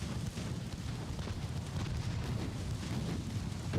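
A torpedo strikes a warship in the naval battle game Ultimate Admiral: Dreadnoughts, a dense, sustained low rumbling roar of explosion that fills the whole moment at steady, heavy loudness.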